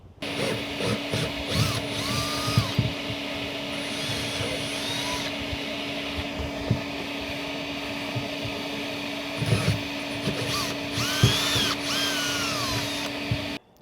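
Power drill boring back through the gel coat of a boat hatch during a refit, a steady whining drive running continuously across the clip with brief pauses and ratcheting touches.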